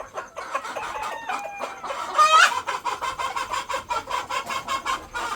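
Desi village chickens on a poultry farm cluck steadily and close by, with a rooster crowing once partway through over the continuous flock chatter.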